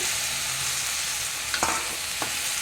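Chopped tomatoes hit a pan for a spicy tomato-mint chutney, giving a steady close sizzle with a couple of brief stirring scrapes near the end.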